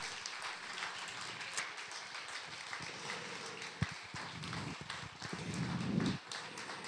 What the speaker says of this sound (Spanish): renovamos el aplauso para Ernesto